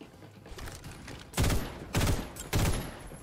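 A burst-fire weapon in the shooter video game Farlight 84 fires three loud, evenly spaced bursts, each a sharp cluster of gunshots, with quieter game ambience in between.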